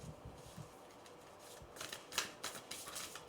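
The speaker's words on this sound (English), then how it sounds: "And shuffling again" Tarot cards being shuffled by hand, faint and close: soft papery riffles and sharp flicks that grow into quick bursts toward the end.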